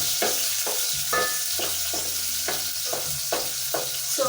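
Bulb onions sizzle and fry in a sufuria at home for beef pilau. A regular stirring scrape repeats roughly twice a second over the steady hiss, close and alone with no talk.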